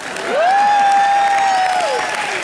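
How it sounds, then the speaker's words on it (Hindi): Studio audience of a Hindi comedy show breaking into applause, a steady wash of clapping with a loud sustained tonal sound effect laid over most of it. "जोरदार तालियां।"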